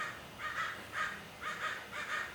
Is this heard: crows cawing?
yes